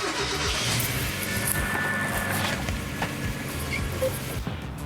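A Mazda Miata pulls away on a test drive after rear brake pad replacement, its engine running at a moderate, steady hum with slight revving, heard from nearby with faint road noise.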